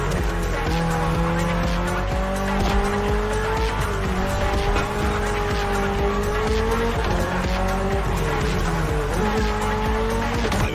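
A Toyota GR86 races in The Crew Motorfest with a steady, loud engine drone that rises and falls through gear shifts, mixed with tire squeal and skidding throughout, with no talking.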